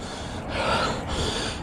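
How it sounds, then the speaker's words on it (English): Heavy, labored breathing of a cyclist climbing a long sustained hill, with loud rhythmic inhales and exhales close to the microphone and no speech. "Apologize for my breathing. It's a pretty big, long, sustained hill."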